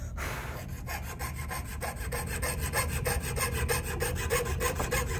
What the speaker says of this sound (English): And so then you can keep sawing.